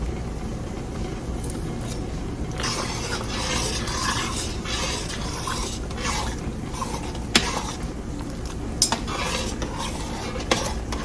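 Butter melting in a pot for rice and peas, steady soft sizzle under repeated spoon stirring and scraping, with a few sharp metallic clinks against the pot, close and continuous.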